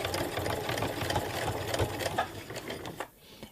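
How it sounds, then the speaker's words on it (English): A sewing machine stitches along a fabric edge, giving a steady close mechanical whir for about three seconds before it slows and fades, with no talking. "then I can continue sewing"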